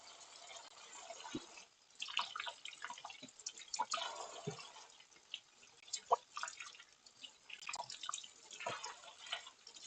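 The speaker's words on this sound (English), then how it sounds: "rinsing each off under running water." Gobies being rinsed in a strainer under running tap water: faint, soft splashes and drips, irregular and close, with no talking.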